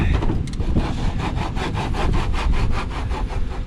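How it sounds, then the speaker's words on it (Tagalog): A hand saw cuts steadily through a wooden door, with regular back-and-forth rasping strokes, loud and close, continuing throughout. "kailangan lagariin na lang."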